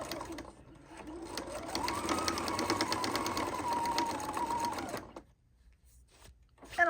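A sewing machine runs a back stitch across a tote bag strap, a steady fast mechanical whir for several seconds that stops abruptly into near silence.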